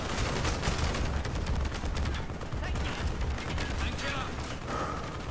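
Dense machine gun fire rattles through a village firefight in the Call of Duty Black Ops video game, sustained loud bursts overlapping with other gunfire and battle noise throughout.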